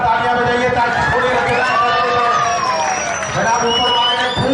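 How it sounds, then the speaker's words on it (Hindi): Crowd cheering and shouting at a Ranchi comedy laughter show for comedian Ravindra Jauni, a loud continuous roar of many voices with excited high-pitched yells, no distinct clapping standing out. "रविंद्र जौनी जी के लिए जोरदार तालियां बजाइए"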